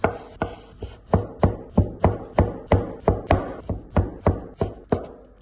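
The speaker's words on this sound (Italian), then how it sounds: "cetriolini, così, li tagliamo" A knife chops small pickles (cetriolini) on a cutting board in a quick, even rhythm of about a dozen sharp, close knocks, with no voices over it.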